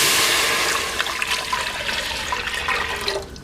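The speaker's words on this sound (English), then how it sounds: "Okay, we're going to start off with adding our water." One liter of water pours into a soup pot in a loud, continuous rushing splash that holds steady for several seconds before tapering off at the end.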